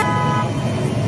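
Car horns blare at a political rally, a loud sustained honk ringing over crowd and traffic noise in a short burst.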